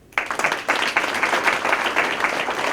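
Applause bursts in abruptly after a brief quiet moment, then an audience at a recognition celebration keeps clapping steadily in a dense, lively patter.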